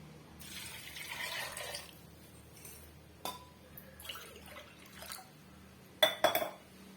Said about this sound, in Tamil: நான் வந்து ரெண்டு கப் அளவுக்கு தண்ணி சேர்த்துக்கிறேன்